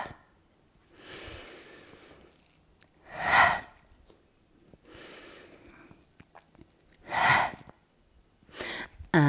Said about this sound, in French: Travaillez aussi avec votre respiration.